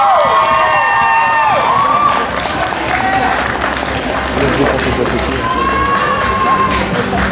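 Loud audience applause and cheering for a cosplay contest winner at a geek festival, a dense sustained roar of clapping and shouts with children's voices, with whistles or squeals rising over the crowd throughout.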